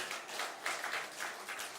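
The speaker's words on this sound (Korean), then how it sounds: "박수 한번 쳐주세요" A church congregation gives a short round of applause during a Sunday afternoon service, faint and somewhat distant, with uneven bursts of clapping and no voices over it.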